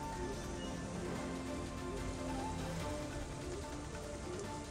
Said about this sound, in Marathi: वसई विरार परिसरामध्ये जोरदार पाऊस आपल्याला बघायला मिळतोय।